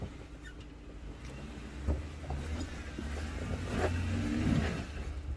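Off-road rig crawling steadily up a rocky trail near Tin Cup and St. Elmo in Colorado, a low steady engine drone with a slight rev swelling toward the end, wind noise over the microphone, no talking.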